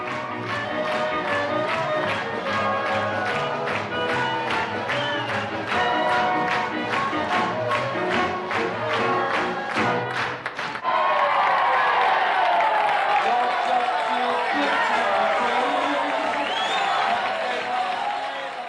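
In a bar scene from The Deer Hunter, an audience claps along in a steady, fast rhythm, then breaks into loud, sustained cheering and whooping from a crowd nearby.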